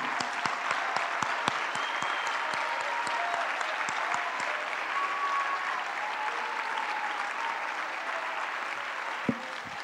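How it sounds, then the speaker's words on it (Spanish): A church congregation applauds during a Spanish-language sermon in Houston, producing nearly ten seconds of steady, dense clapping that fills the room at a moderate level, with a few sharper individual claps standing out. "Alguien aplaude al Rey de Reyes."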